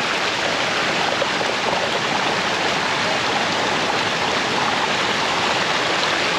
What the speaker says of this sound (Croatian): ovo je voda koja izlazi iz špilje